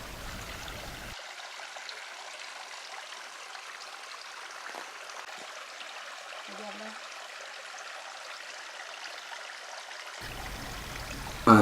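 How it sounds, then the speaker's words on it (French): A thin trickle of water runs from a nearly dry waterfall in a valley, a soft continuous hiss of flowing water heard close and steady, alone without talk for most of its length. "Un mince filet d'eau s'évanouissant rapidement en aval."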